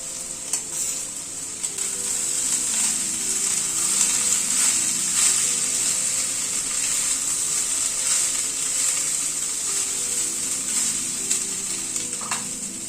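Cooked rice is stirred and fried with spiced rajma in a pan, giving a continuous bright sizzle with scraping and stirring strokes throughout, close and fairly loud, with no one speaking.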